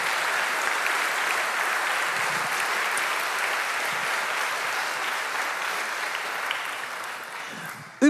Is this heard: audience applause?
yes